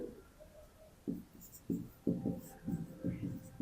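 Pen or pencil writing on paper while working through a polynomial math problem, a series of short scratchy strokes in uneven bursts, close and moderately loud, with no speech.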